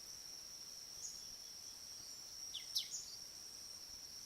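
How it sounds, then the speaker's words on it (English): Quiet old agroforest plots carry a steady, thin insect drone, with a few brief, faint bird chirps around the middle of the stretch. "You have a few birds singing now and then, some insects, squirrels in the background, and so on."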